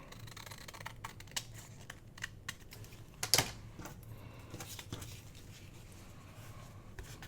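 Thin book page paper is trimmed at the edge with close, crisp snips and light ticking clicks over a quiet room, with one louder, sharper cut partway through.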